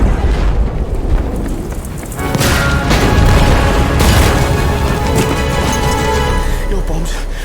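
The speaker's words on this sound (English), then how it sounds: "that's because my bombs went off" Bombs exploding in the World War II shooter Battlefield 5, with heavy booming blasts and crashing debris building into a continuous loud roar over several seconds, under in-game voices.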